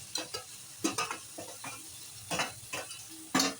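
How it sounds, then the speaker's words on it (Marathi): Marinated chicken mince tipped into a pan of fried onion, softened tomato and chilli powder, with a series of stirring scrapes and faint sizzling bursts, close and moderately loud, no talking. "आता घालूया मॅरिनेशन केलेला खिमा"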